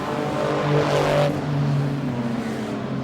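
Speedway race cars lap a dirt track near the end of a race, the leaders' engines roaring loudly with a rising, sweeping pass before settling into a steady drone, and no voices.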